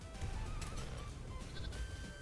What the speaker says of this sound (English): Oh, I walked into that sheep and it just died.